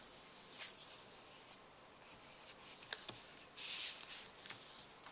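Paper being folded and burnished while assembling a handmade mini album journal, a series of soft crisp rustles and scrapes with a few sharper creases, close and quiet.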